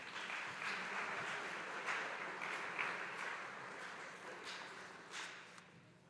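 A school academic awards audience applauds with a soft, steady patter of many hands, heard from a distance and fading slightly toward the end.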